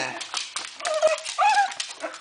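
At an outdoor bushcraft show, a dog whimpers and whines in short, high, rising cries close by, mixed with people talking nearby.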